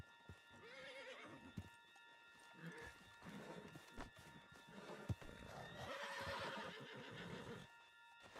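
A horse whinnies and neighs loudly in Red Dead Redemption 2, with clip-clop hoofbeats and game ambience around it, the whinny swelling near the end.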